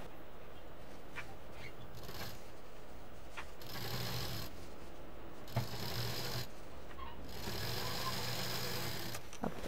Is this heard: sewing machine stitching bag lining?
yes